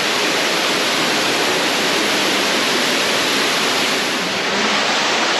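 A loud waterfall roars steadily and close by at the mouth of a cave in Laos, a dense unbroken wash of falling water with no other sounds.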